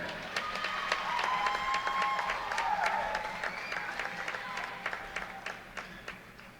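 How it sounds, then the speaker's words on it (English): Applause for a senior player at a college volleyball match: a crowd claps steadily for several seconds, warm and sustained, then slowly thins out with a few scattered claps and indistinct murmurs. "Ladies and gentlemen, one more round of applause for Taylor Kieran."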